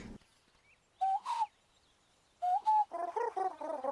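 A cartoon bird, the Tri-Crested Tittertwill, gives short warbling, gobbling calls in separate bursts with quiet gaps between, ending in a longer burbling run of chirps.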